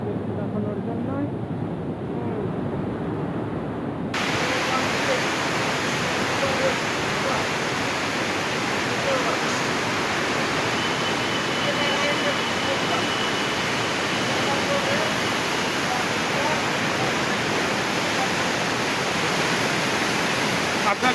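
Water rushes loudly and steadily through the Farakka Barrage, a dense unbroken roar close by that swells fuller after the first few seconds and holds for the whole stretch.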